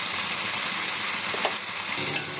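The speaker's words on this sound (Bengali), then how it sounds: "ভেজে রেখেছিলাম আলুগুলো দিয়ে দিলাম, হলুদ দিয়ে দিলাম" Fried potatoes and turmeric go into a pan of bubbling masala with milk for an eel-fish curry, giving a steady, close sizzle and hiss throughout, with one brief clink of a utensil near the end.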